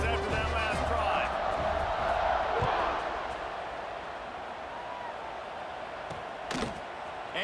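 A stadium crowd cheers and roars in a college football video game, a broad sustained wash of noise that swells early and eases to a steady murmur, with a commentator talking over it.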